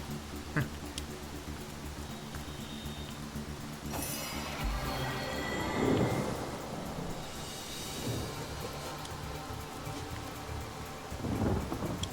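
Rain falling in the fantasy video game Divinity: Original Sin, a steady patter with low rumbling swells like distant thunder, moderately loud and continuous, with game music tones beneath.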